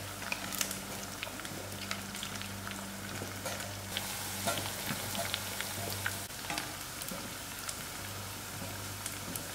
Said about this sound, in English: It's nice to use your garlic whole. Give it a mix and allow this to fry.